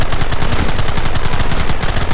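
Rapid, dense gunfire fills a battle in the Red Dead Redemption video game, a loud continuous volley of overlapping shots with a steady machine-gun-like rhythm and no pauses.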